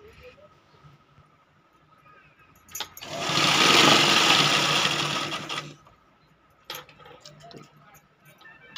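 A sewing machine stitches a border onto a large eight-by-six-foot quilt made from old cloth. A quiet start gives way to a loud, fast continuous run of stitching for nearly three seconds, followed by a few short, lighter bursts.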